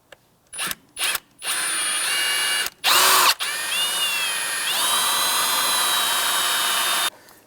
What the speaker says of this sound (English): Now we're going to drill up the center here.